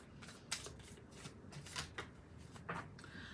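Soft, quick riffling and slapping of oracle cards being shuffled by hand, several faint bursts over a few seconds with no talk.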